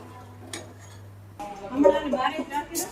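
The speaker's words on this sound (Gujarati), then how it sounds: "હવે આલુ ને છોલે નાખીને મિક્સ કરી દઈશું." Spoon stirring potatoes and chickpeas in a metal pot, giving scraping clinks that grow busier after a quiet start, with brief voices in the kitchen around it.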